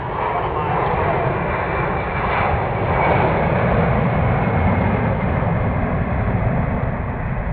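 A Boeing C-17 military transport, a jet weighing close to 400,000 pounds, passes slowly on final approach at about 120 mph, its engines making a loud, steady roar that fills the whole stretch, with talk layered underneath.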